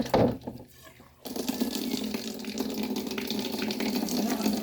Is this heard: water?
yes